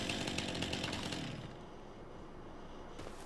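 A chainsaw in Farming Simulator 25 cutting down a tree, a loud buzzing rasp for about a second and a half, then dropping to a lower, rougher idle, with a brief rise again at the end.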